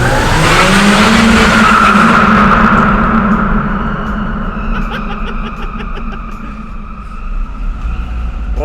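A Mini Cooper S R52 convertible drifting, its tires skidding and squealing loudly and close for several seconds, the screech fading into steady engine noise with faint laughter.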